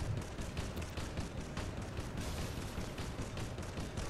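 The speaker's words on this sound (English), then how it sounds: "My turret is just shooting at a wall." Turret gunfire in the video game EDF: Insect Armageddon, a continuous, dense rattle of rapid shots with a low rumble underneath, steady and moderately loud throughout, no voices.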